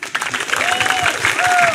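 Audience applause at a JKT48 school event with idol group members, a short burst of clapping with crowd noise and a whistle-like tone rising over it.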